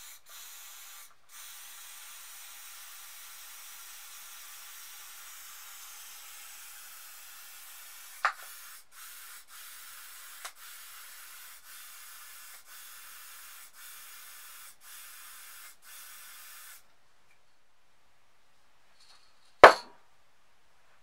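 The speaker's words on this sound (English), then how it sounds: "So we'll get the black and spray some into it." Black spray paint hisses from a can into a pot in short and long bursts, soft and near, with a few sharp knocks or taps and a loud clack toward the end.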